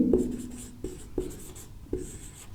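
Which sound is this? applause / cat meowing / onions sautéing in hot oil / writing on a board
writing on a board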